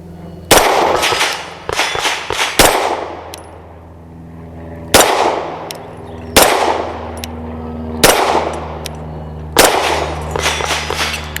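Pistol shots from a BUL Armory SAS II TAC 4.25 strike a moving steel target, heard as loud sharp cracks with ringing metallic clangs, fired in small clusters and single shots with short pauses between.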